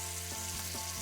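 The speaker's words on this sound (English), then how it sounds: "I can add in the shrimp" Shrimp sizzle in a hot pan alongside browned shallot and zucchini, a steady close frying hiss with a few soft stirring scrapes, no voices.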